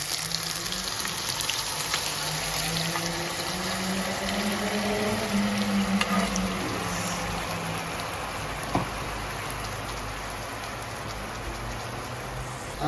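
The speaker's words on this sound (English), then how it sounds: "Now I'm gonna add my sauce." Teriyaki sauce poured onto chicken in a hot pan, giving a steady loud hiss and bubbling sizzle that runs unbroken throughout with no speech.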